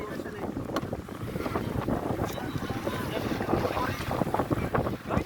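Strong wind buffets the microphone in a steady roar at a crowded fishing spot in Saudi Arabia, with low rumbling gusts and faint voices underneath.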